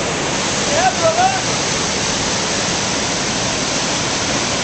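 A waterfall in Alaska roars as steady, dense broadband rushing water throughout, with a brief voice-like vocal sound briefly over it near the start.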